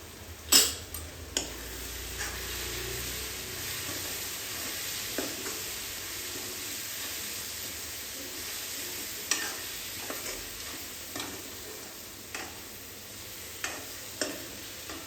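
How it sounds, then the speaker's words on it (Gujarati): Onion sabzi with red chili powder and turmeric is stirred in a pan. A steady low sizzle runs under intermittent utensil knocks and scrapes against the metal, with a sharper clatter near the start and no speech. "હવે આ લાલ મરચું પાવડર અને હળદર ઉમેરી અને આપણે એકદમ તેને હલાવીશું"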